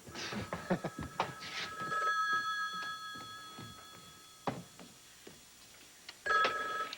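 An old-fashioned telephone bell rings in bursts across a busy household scene, with thumps, footsteps and clatter in between, the ringing moderately loud and fairly close.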